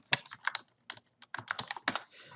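Quiet, close keystrokes on a computer keyboard come in uneven bursts of clicks with brief pauses, no voices over them.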